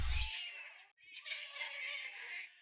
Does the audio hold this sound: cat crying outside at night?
yes